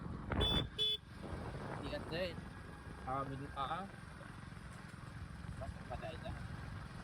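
Steady road and engine rumble from a moving motorcycle, with a couple of short horn toots near the start and other traffic passing.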